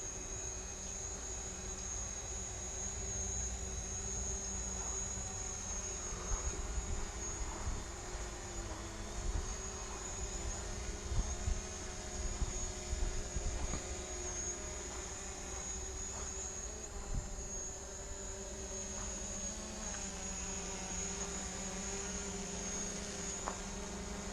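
A camera drone flies above a park on a cold February day, a thin, high whine of small propellers holding steady for a long stretch, with a faint hum and scattered small noises underneath.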